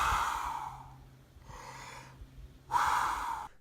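Wim Hof method breathing sets: three deep, drawn-out breaths, each a loud airy rush close to the microphone, separated by short quiet gaps, with no talking.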